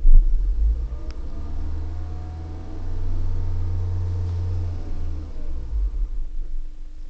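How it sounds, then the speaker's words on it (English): The engine of a 2008 Toyota Prius with about 71,000 miles starts up, a low, steady rumble that swells after a few seconds, holds, then eases off, close and fairly loud. "It takes about 3 seconds for the engine to come on once the engine's off"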